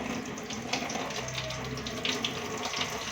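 Water splashes and runs over poha (flattened rice) being rinsed by hand, a steady close wash with small sloshing pulses and no talk.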